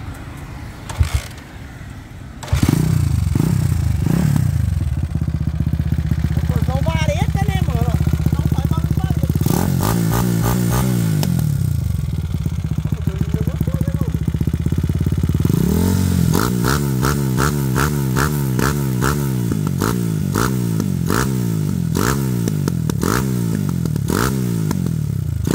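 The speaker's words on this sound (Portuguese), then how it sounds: "deixa eu mostrar aqui essa moto ligada pra galera" A CG 94 Today motorcycle fitted with a 240cc engine is started and left running close by. It idles with a loud, steady putter and is blipped into several rising and falling revs, with someone talking over it at times.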